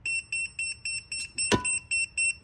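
A voltage tester held near live electrical wiring at a breaker gives a rapid run of about eight evenly spaced high beeps, loud and close, with one sharp click partway through.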